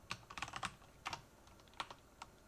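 Quick bursts of clicking keystrokes on a computer keyboard, irregular taps in short clusters, close and fairly quiet, no talking.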